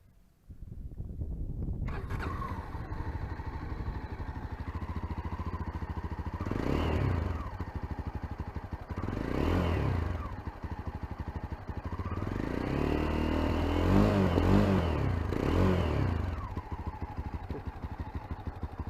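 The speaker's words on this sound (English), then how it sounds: "Let's hear the exhaust." A Mahindra Mojo 300 single-cylinder motorcycle starts up close by and idles with a steady thumping exhaust, then is revved several times in rising and falling swells, with a longer cluster of blips near the end.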